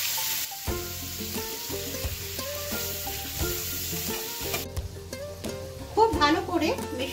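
Chopped bitter gourd, potato and fish roe fry in a pan with turmeric and salt, a steady sizzle broken by irregular stirring scrapes, close up over a faint tonal background.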